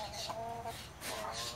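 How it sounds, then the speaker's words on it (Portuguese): Chickens in a new bamboo coop give short clucks and throaty calls close by over a steady background. "Galinhas já estão na casa delas, o galinheiro."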